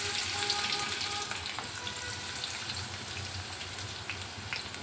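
Chopped onion goes into a pan of garlic frying over the flame for chicken liver fry, giving a steady, close sizzle with light crackle throughout and no talking.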